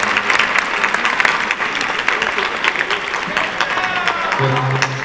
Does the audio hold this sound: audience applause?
yes